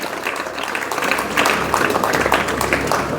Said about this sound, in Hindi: तालियों की गड़गड़ाहट लगातार जारी रहनी चाहिए क्योंकि सफलता बहुत बड़ी है